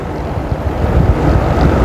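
Strong wind buffets the microphone along a bypass road during a race, a rough, steady roar of low rumbling gusts that builds slightly toward the end, with no voices.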